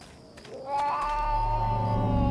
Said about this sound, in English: What's this cat doing by my house?